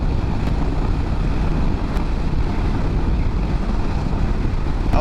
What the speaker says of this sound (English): that wind is really blowing